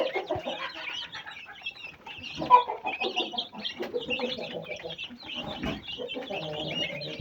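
Young chicks chirping close by: a dense, continuous stream of high, overlapping peeps that holds fairly steady throughout.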